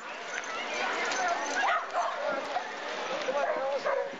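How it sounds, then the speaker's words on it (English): Dogs bark and yip at a 2-mile running event where runners take part with their dogs, several short barks scattered under a busy crowd of voices and people talking. "We see all sorts of dogs, shapes, and sizes in this event"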